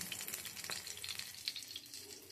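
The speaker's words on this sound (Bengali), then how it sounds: "আমি বেগুনগুলো ভেজে নিলাম।" Eggplant pieces fry in hot oil with a brief, close, steady crackle and sizzle, studded with small popping spits, and no one talks.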